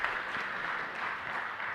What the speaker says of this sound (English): Please give them all a warm round of applause, ladies and gentlemen